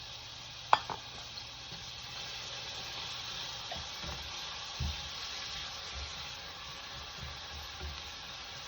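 Onions browning and caramelizing in a pan for stacked tacos give off a quiet, steady sizzle, with a few soft clinks of stirring near the start and occasional light scrapes.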